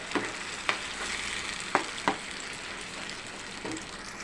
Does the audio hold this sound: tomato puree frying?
yes